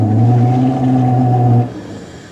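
A Dodge Ram 5.9 gas engine with no power, skipping and bogging down, runs as a steady low drone with strong harmonics, then drops away sharply after about a second and a half, leaving a fainter rumble. No one speaks.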